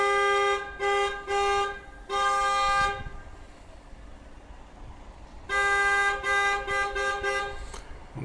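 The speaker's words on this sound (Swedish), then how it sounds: "Hon tutar och håller på." A car horn honks outside Manty Bar, several short toots in two clusters separated by a quieter stretch of street ambience, fairly loud and near with no talk.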